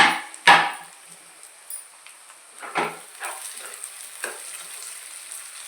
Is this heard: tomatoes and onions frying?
yes